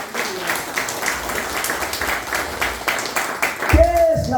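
A church congregation applauds together in a sustained, rhythmic burst of clapping, fairly loud and close, ending with a brief bump of noise as it tapers off.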